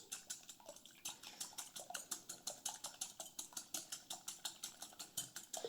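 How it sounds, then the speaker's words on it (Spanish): Eggs are beaten by hand for Mexican-style French conchas, giving a quick, steady run of light clicking whisk strokes against a bowl, close and fairly soft, with no voices. "Batimos bien nuestros huevos."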